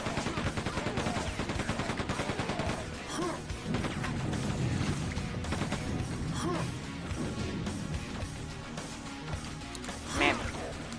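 Rapid chaingun fire from a cyborg chain gunner enemy in Quake 2, dense loud bursts of automatic gunfire mixed with game effects and clanks, with a voice talking over parts of it.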